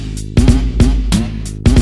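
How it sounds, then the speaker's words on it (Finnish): A moped exhaust pops and crackles in a few loud, sharp bursts over a low, steady engine rumble, close by. "että sulla paukkuu pakaa"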